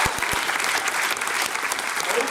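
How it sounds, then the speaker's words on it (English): Audience at an improv comedy show in India applauds, dense steady clapping from a crowd that fills the room throughout, with a few sharper claps near the start. "Give them a round of applause as they go back to their seats."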